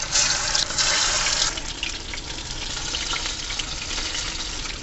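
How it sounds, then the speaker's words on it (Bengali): Stuffed pointed gourd frying in hot oil, a continuous bright sizzle that is strongest in the first moments and then settles to a steady, even crackle, with no one talking. "তেল গরম হয়ে গেছে, এবার এক এক করে ভেজে নেব"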